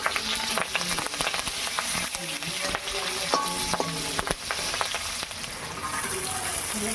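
Green chillies and curry leaves fry in hot oil for sabudana khichdi, producing a dense crackling sizzle with frequent sharp pops and stirring scrapes, close and continuous throughout.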